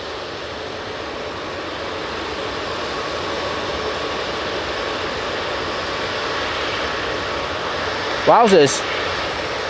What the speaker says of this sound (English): This EasyJet is off to Madrid using an A320-200.